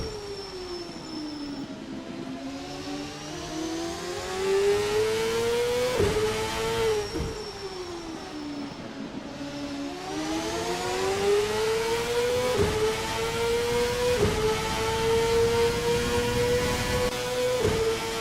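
A CART open-wheel race car at the Long Beach street circuit, taken through turn 5 in a racing game: a steady, loud engine whine that rises and falls in pitch through gear changes as the car brakes and accelerates, with no voices.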